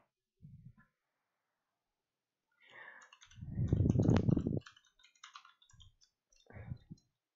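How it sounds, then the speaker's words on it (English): Keyboard clicks from a new computer keyboard during Hypixel PvP gaming, in short bursts with a dense flurry of typing in the middle, close and fairly loud, with no talk over it. "Why am I typing it?"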